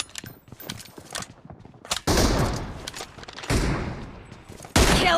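Rapid gunfire in the BGMI mobile battle royale arena mode, including M24 sniper rifle shots, with loud continuous bursts and dense volleys after a scattered opening, close and harsh with no talking.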